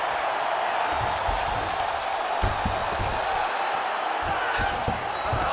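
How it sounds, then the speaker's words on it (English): Arena crowd in the EA UFC 5 fight game roaring steadily throughout a bout between Jack Della Maddalena and Islam Makhachev, a dense continuous wash of cheering with scattered low thuds and a commentator's voice over it. "So the crowd absolutely loving it as these fighters work their way back to the feet"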